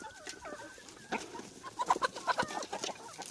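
Farm chickens clucking while pecking at bread with off-grade cherry jam in summer, a run of short close clucks and soft calls building in the second half, with no talk.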